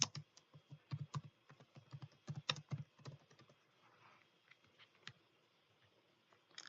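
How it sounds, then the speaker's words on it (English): Fingers type on a computer keyboard nearby, a quick run of soft clicking keystrokes at first, then thinning to a few scattered taps, fairly quiet with no talking. "I can type a task"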